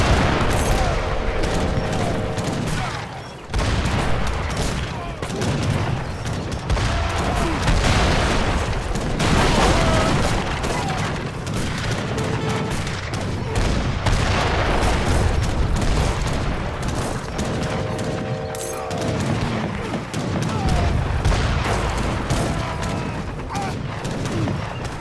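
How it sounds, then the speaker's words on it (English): Mortars and other battle fire in a strategy game boom and crackle in dense, overlapping volleys throughout, loud and sustained, with a voice commentating over the din. "France in the center again with 4 mortars."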